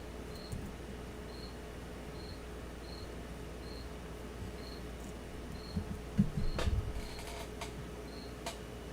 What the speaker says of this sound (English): if you guys can hear that cricket chirping